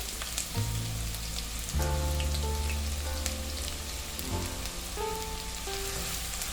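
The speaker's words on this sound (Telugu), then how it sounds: "ఇప్పుడు మనం ఒక ప్యాన్లో 4 tablespoons ఆయిల్ వేసుకుని అది బాగా హీట్ అయ్యాక ఒక మీడియం సైజ్డ్ ఆనియన్, కట్ చేసుకున్న ఆనియన్ని వేసుకుని వేయించుకోవాలన్నమాట" A medium onion, cut up, fries in four tablespoons of hot oil in a pan, giving a steady close sizzle like rain on a surface, with a few metallic clinks of a utensil.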